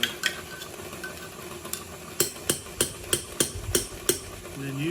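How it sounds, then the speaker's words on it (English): A utensil is tapped repeatedly against a mixing bowl to knock off chocolate chip cookie dough, giving a run of sharp, evenly spaced knocks up close that grow more regular halfway through. "I have to tap it down on there to get it to come off"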